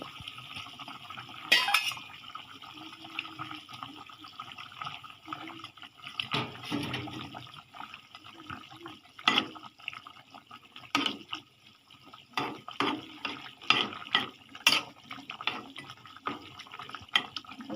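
Pieces of fish slid into a simmering eggplant fish curry in a home kitchen: scattered wet splashes and bubbling, plus clinks of a spoon and pot, moderately close and faint between sounds.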